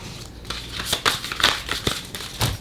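Tarot cards being shuffled during a card reading, a close run of crisp riffling snaps and papery flicks in uneven bursts, with no voice.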